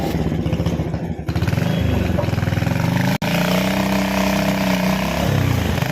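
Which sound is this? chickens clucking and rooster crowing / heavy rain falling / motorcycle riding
motorcycle riding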